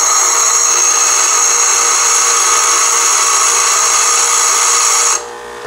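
A machine cuts a groove into a transmission part, the tool laid against the corner of a wheel: a loud, steady high-pitched whine holds for about five seconds, then cuts off abruptly.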